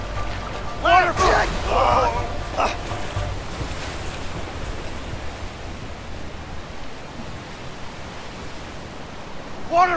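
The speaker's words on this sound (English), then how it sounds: "Waterfall!" Rushing waterfall roar in the video game A Way Out, a steady broadband wash of water running through the whole stretch, with excited voices shouting over the opening seconds.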